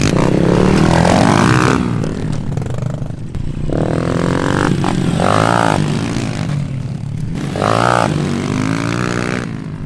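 A pit bike engine revs repeatedly on a dirt track, its pitch climbing and dropping in several surges. The bike sounds fairly close and loud, and there is no talk.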